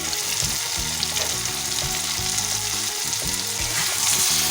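Mixed vegetables for a wedding-style chhyanchra fry in a pan with a steady, close sizzle. The crackle is broken by the soft scrape of stirring, and no one speaks.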